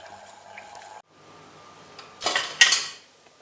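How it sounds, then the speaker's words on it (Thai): Boiled water poured into flour for churros: a short splashing pour lands near the end, following clinks of pans and utensils, close and fairly loud with no voices. "แล้วก็เอาน้ำที่เราต้มเมื่อกี้เนี่ยเทผสมลงกับแป้ง"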